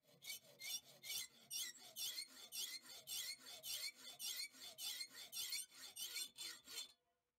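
Steel is filed by hand, a harsh, squealing rasp repeating in steady back-and-forth strokes about twice a second, close and alone for about seven seconds before stopping.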